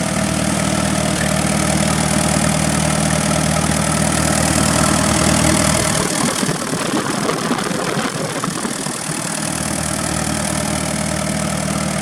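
An old Allis-Chalmers WD tractor engine chugging steadily up close, loud and continuous, with a brief change in its rumble midway before settling back to an even idle.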